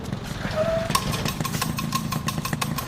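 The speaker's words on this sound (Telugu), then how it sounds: "బైక్ పాడైపోయినది బాబు, చేయించేదానికి పోతాండా" A broken-down motorbike engine running with a rough, uneven putter, a steady mid-range chugging close by with irregular knocks and a brief whine early on.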